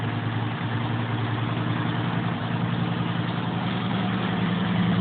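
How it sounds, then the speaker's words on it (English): The engine of a homemade off-road go-kart built from junk runs at a steady idle, a continuous, fairly loud low rumble with no change in pace. "So, we're going to take it for a little spin."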